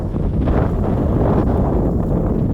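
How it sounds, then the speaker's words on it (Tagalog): Strong, cold wind gusts across a lake shore, a dense low rumbling roar buffeting the microphone continuously and loudly, with no talk. "Lakas naman ang hangin, ang lamig tuloy."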